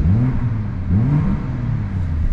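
A BMW B58 3.0-litre straight-six engine in a 2022 M240i revs up and down in loud, rising and falling surges, two or three throttle blips close to the microphone with no talking.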